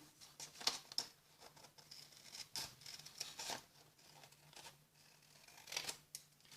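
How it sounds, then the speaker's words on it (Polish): Scissors trim the uneven edges of a woven paper craft heart, giving quiet, close snips and crisp paper rustles in irregular bursts separated by short pauses. "I teraz możemy złapać za nożyczki"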